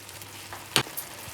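Mushroom spinach pasta sauce with cheese being stirred in a pan on the stove: a soft steady sizzle with one brief scraping swish of the spoon, close and fairly quiet.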